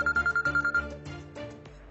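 A phone ringtone for an incoming call plays in a home, a repeating electronic melody of short pulsed tones in a quick, steady rhythm that stops after about a second and a half.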